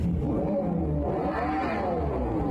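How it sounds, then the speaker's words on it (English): An electric car accelerating with a loud whirring drive sound that rises and bends in pitch over a steady low rumble, continuous for a couple of seconds with no talk. "But this is an electric car"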